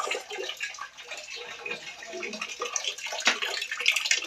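Water fills a washing machine tub, running steadily in a broad rushing hiss at a constant moderate level throughout.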